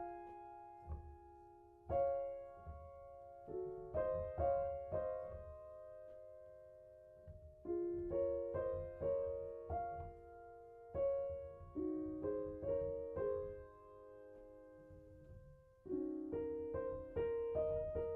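Solo piano plays the opening phrase of Debussy's Clair de Lune, quiet and sparse, with soft sustained chords and gentle repeated notes in slow rubato, swelling and decaying phrase by phrase.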